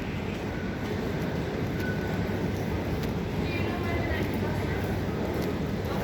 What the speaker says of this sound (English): This is the underground of the subway.